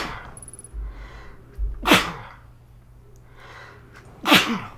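Two sharp, loud human sneezes a few seconds apart, each preceded by a quick breathy intake, with quiet murmuring in between.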